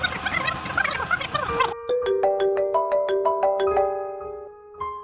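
A mobile phone ringtone plays a bright, repeating melodic chime of clear tones, loud and close, after a brief stretch of noisy bird-like squawking at the start.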